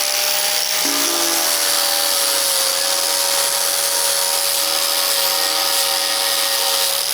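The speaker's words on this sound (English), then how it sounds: "I'm just taking the grinder up to that point on that angle" A grinder pad runs steadily along a welded steel edge for weld spatter removal, with a constant loud abrasive whine and hiss and a brief pitch change near the start, with no talking.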